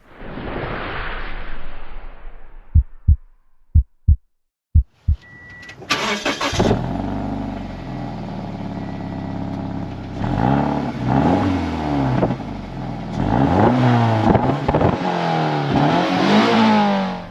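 A Scion FR-S on its current exhaust, recorded close: a few sharp clicks, then the engine cranks and fires into a loud idle, followed by repeated throttle blips that rise and fall in quick revving bursts.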